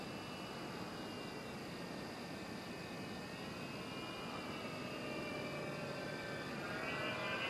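An FMS Maule 1500mm radio-controlled plane drones steadily overhead on a morning flight, its electric motor a continuous whining hum with shifting tones over a broad hiss, no voices.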